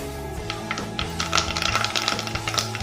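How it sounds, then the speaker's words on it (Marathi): Curry leaves tossed into a generous amount of hot oil for spicy misal crackle and spit in rapid, irregular pops that grow denser partway through, heard over a steady musical background. "आता कढीपत्ता छान तडतडला"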